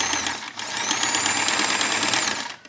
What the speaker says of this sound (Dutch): Ik naai wel recht hoor jongens, dat ik jullie dat wel even weten. Ik ga wel dit doen, maar het is van de glibberstof.